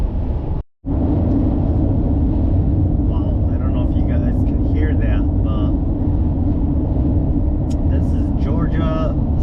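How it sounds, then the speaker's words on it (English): Loud, steady road rumble and tire roar inside a vehicle moving southbound on highway 95, continuous and close, with brief dropouts and faint traces of other sounds. "I'm on highway 95 going southbound, and holy smokes, the highway is super loud"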